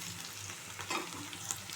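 Ridge gourd dal fries in oil with kasuri methi, crackling in a close, soft sizzle with a couple of brief stirring scrapes over a short moment.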